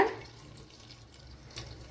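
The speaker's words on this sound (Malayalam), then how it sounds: "വെള്ളം ഒഴിച്ചു കൊടുക്കാം" Water pours briefly into a cooking pan in a soft, steady stream, a gentle splashing rush fading quietly, with no voices.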